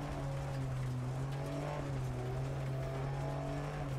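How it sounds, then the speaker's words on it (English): Rally car engine in DiRT Rally 2.0, a steady droning rev with shifting pitch that holds loud and continuous throughout, with faint tire noise mixed in and no talking. "Listen to that engine!"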